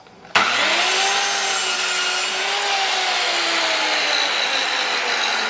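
A miter saw cuts through a 12-inch wooden board with one loud, sustained whining rip that starts abruptly after a brief quiet and holds steady until the end, close and with no talking.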